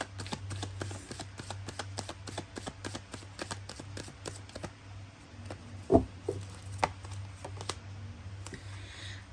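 Tarot deck shuffled by hand, with a steady run of soft, quick card flicks and riffles over a low hum, one louder thump near the middle.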